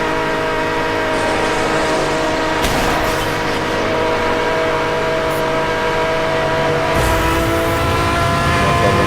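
A McLaren SLR racing in Need for Speed Hot Pursuit, its engine a loud, steady drone held at high revs all the way through, alone with no voices.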